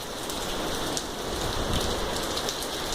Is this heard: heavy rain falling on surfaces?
yes